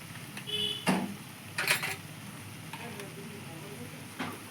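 Ghee hits a pan of cooking cabbage for a Bengali vegetarian dish and gives off a faint, steady sizzle, with a few soft clinks and stirring knocks scattered over it.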